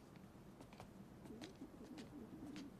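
Pigeons cooing softly at a backyard pigeon coop, low repeated coos rising and falling over a steady faint background hiss, with no talk.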